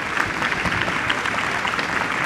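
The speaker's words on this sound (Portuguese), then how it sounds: "Uma salva de palmas para o Guga Stocco." Steady, dense applause from an audience at a banking technology conference, filling the room evenly for a couple of seconds with no voices on top.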